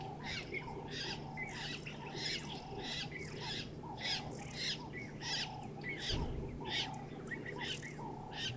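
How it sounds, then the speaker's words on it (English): Jacobin cuckoo calls repeatedly in a lively outdoor bird chorus, with starlings and other birds calling throughout, steady and fairly close with no talking. "There's a Jacobin cuckoo."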